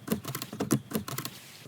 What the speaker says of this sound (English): it will pick up any noise you make on your laptop, such as typing on the keyboard